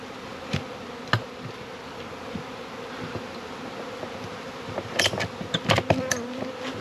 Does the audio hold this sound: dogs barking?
no